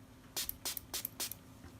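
A spray bottle mists water onto a watercolor sea painting in four quick hissing squirts, close and crisp, with a brief pause between each.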